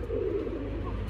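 A pigeon gives a low, soft, throaty coo close by, one short rounded call lasting about a second.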